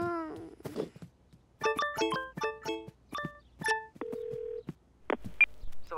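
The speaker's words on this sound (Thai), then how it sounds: "เราไปโทรหาฟลอปแล้วเธอก็เล่าเรื่องที่เจ็บให้เขาฟังดีไหม" A cartoon telephone being dialed gives a quick series of clipped electronic beeps of varying pitch, then a longer steady tone and a few final blips, clear and close with no talking.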